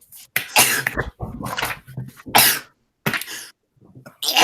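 A sneeze in a classroom, several sharp bursts of coughing, sneezing and throat-clearing spread across a few seconds with short quiet gaps between them, close by.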